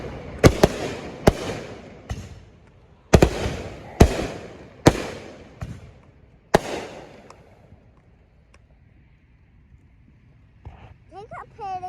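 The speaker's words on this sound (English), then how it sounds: "No, we're taking the fireworks." Fireworks at a family firework show: about eight sharp, loud bangs spaced roughly a second apart, each with a trailing crackle, followed by a quiet stretch and brief voices at the end.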